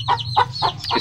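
A broody hen that has hatched chicks clucks four times in a steady rhythm, close and clear over a low background hum.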